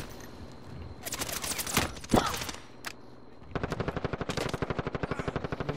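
Gunfire crackles through a video game: a few scattered loud shots and bursts come first, then a sustained rapid automatic volley rattles on evenly to the end.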